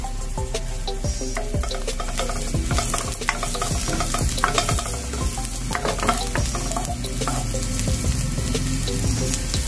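Ginger sizzles and fries in a pan for ginataang gulay, with a continuous crackling sizzle punctuated by repeated scraping stirs of a utensil against the pan, close and loud.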